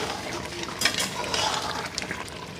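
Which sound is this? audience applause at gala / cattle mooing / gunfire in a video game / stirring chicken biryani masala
stirring chicken biryani masala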